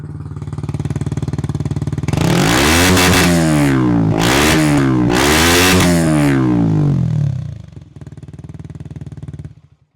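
Yamaha YZF-R125 sport motorcycle with a Dominator exhaust and DB killer fitted, idling then blipped through several sharp, loud revs that rise and fall, before settling back to a steady idle and cutting off.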